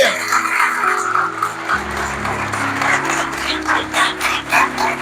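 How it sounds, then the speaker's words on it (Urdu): A church congregation claps during a Palm Sunday service; the clapping is moderately loud and blends with a sustained tonal backdrop, growing more rhythmic toward the end. "زوردار تالیاں بھرنے کے لیے۔"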